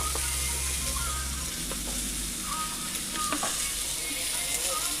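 Pointed gourd fries lightly in a little oil, making a close, continuous sizzle and hiss with occasional stirring scrapes and a low hum underneath.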